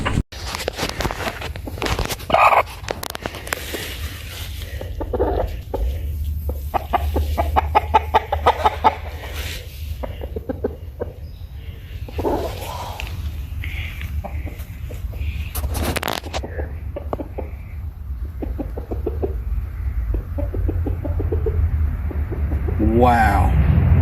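Chickens cluck and call from a played social media clip, a steady run of short bird calls over a constant low hum with bits of background talk.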